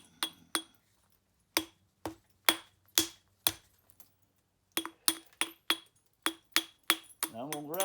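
Hammer repeatedly striking a 4-inch-thick Georgetown concrete spall well back from its edge: about fifteen sharp, ringing cracks in irregular bursts with short pauses, close and loud, with a brief voice at the very end.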